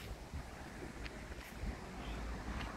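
Wind gusts steadily past the microphone outdoors among tall trees, a dense, faint rushing roar with soft rumbling buffets and no clear voices.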